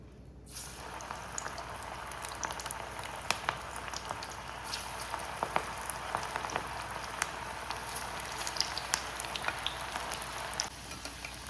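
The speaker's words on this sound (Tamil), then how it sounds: "சட்டியில் எண்ணெய் வச்சு எண்ணெயை சூடு பண்ணியாச்சு. இப்போ எண்ணெயில் போட்டு எடுத்துக்கலாம்." Onion vada dropped into hot oil in a pan fry with a constant close crackle and bubbling, sharp pops scattered through the steady sizzle, starting abruptly and running unbroken.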